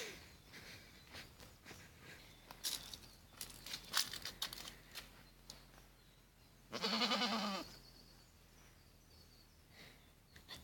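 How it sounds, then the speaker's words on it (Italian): Goats at a farm bleat, one loud nearby bleat standing out amid scattered clicks, rustling and shuffling; other animal sounds are faint and intermittent. "Eccole qua le capre."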